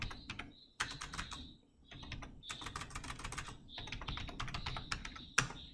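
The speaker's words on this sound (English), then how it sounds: "Now type the password." A password is typed on a computer keyboard, with quick, fairly faint key clicks coming in bursts and short pauses, close by and with no voices.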